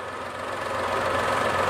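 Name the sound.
Toyota Xenia engine idling roughly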